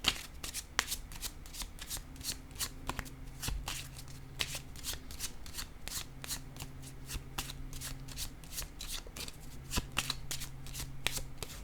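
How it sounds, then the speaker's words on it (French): Playing cards are shuffled close to the microphone. Crisp riffling snaps repeat in quick, steady bursts, with no talk over them. "J'ai envie de déposer une carte sur la dame de cœur."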